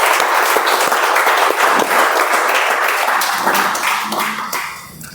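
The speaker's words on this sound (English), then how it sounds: "Can we have a round of applause for all the 7 contestants presented here?" An audience at an international speech contest claps for the contestants: dense, loud, sustained applause with no talking, thinning and fading out over the final second.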